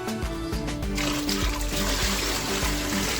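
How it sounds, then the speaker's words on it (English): Dirty water trickling and splashing steadily out of cleaned car seats in a Mini Cooper S R53 interior, a close, continuous liquid dribble with no talk. "this is how the water comes out after cleaning only the seats."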